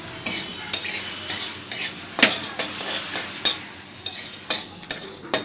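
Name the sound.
dry roasting whole spices: mustard, cumin, dried chili, panch phoron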